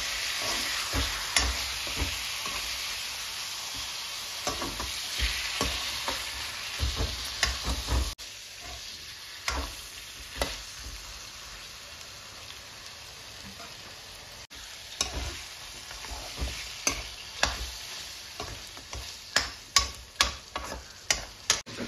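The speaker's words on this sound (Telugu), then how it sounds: "ఒక 5 to 6 minutes or maximum 10 minutes ఆయిల్లో చికెన్ అనేది వేయించుకోవాలి గైస్." Chicken pieces fry in hot oil with a steady close sizzle, while a spoon stirs and knocks against the pan in irregular taps that grow sharper toward the end; no one speaks.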